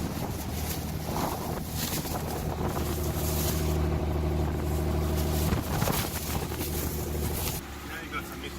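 A repaired car engine idles steadily with a low, even hum, partly masked by wind buffeting the microphone, while people talk nearby over the running motor.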